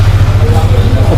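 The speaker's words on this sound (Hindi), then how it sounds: "तो बाइक हो चुकी है स्टार्ट" A Yamaha R15M V4 motorcycle engine idles close by with a steady, loud, low throbbing hum that holds even throughout.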